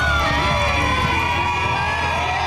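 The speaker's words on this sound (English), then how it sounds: "Here you can hear the audio of counter-protesters cheering as the seven protesters were leaving." Counter-protesters cheer and shout in a dense, continuous crowd roar, loud and steady throughout, as a small group of Westboro Baptist Church protesters leaves a high school in Owasso.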